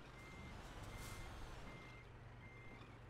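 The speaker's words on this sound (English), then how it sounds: "we'll try and reverse onto the trailer" Steady reversing beeps from a truck in Euro Truck Simulator 2 repeat over a constant low diesel engine rumble as the rig backs onto a trailer, with no talking.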